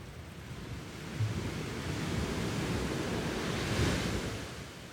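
Ocean waves surging steadily near the Azores coast, a continuous broad wash of surf with slow swells and a fuller crest near the end, heard alone without any voice.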